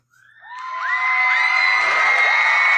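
A crowd-cheering sound effect swells quickly from silence into loud, sustained whoops and shouts, a dense mass of voices holding at full volume to the end.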